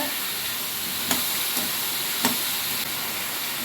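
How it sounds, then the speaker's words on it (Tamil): Vegetables sautéing in oil with salt for South Indian sambar rice, a steady bright sizzle with a few soft clinks of a spoon against the pan. "இப்போ நம்ம இந்த காய்கறிக்கு தேவையான உப்பு போட்டு நல்லா வதக்கி விட்டுருங்க காய் நல்லா வேகட்டும் எண்ணெயிலே வேகட்டோங்க"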